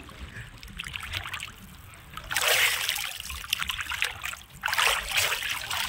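A person dunks into river water in the Sundarbans, two bursts of close, bright splashing rising over a steady watery trickle, with no talk.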